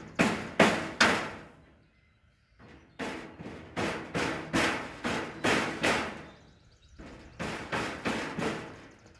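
A hammer strikes repeatedly while an IBC tote is prepped for firewood, with loud, close blows in quick clusters of three to five, separated by short pauses.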